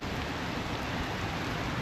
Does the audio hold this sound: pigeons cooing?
no